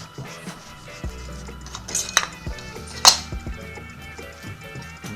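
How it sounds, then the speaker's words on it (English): A knife cutting into a cooked artichoke on a plate, with soft scraping and a few sharp metallic clinks of blade against dish, close and brief. "I'm going to use my knife so I don't burn myself. And you just basically cut it down."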